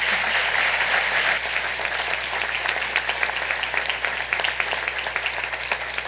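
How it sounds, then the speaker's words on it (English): Sustained applause from a panel discussion audience, a dense, even wash of many hands clapping at steady loudness throughout, with no talk over it. "Let's give our panel a round of applause."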